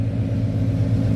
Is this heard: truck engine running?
yes